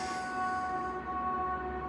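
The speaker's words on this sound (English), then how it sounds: "The train." A train rumbles past at a steady distance with sustained tonal rail hum and broadband noise throughout, no voices.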